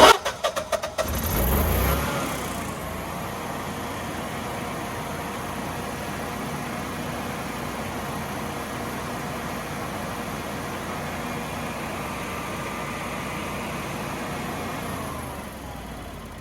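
A Generac 20kW standby generator cranks with a few quick bursts, catches, and settles into a steady, loud, even running drone that continues without a break, with no talking over it.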